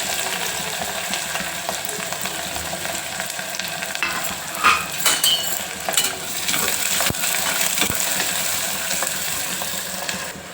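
Onion, green chillies and cumin seeds frying in hot oil for a green cluster bean masala curry, a steady broadband sizzle with scattered stirring clinks and scrapes, close and continuous with no talking.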